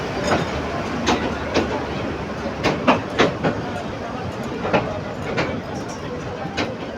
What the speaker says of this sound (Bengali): কুড়িগ্রাম এক্সপ্রেস এটা।